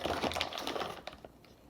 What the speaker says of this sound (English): you're going to fill it with the coarsely ground coffee into the glass part in here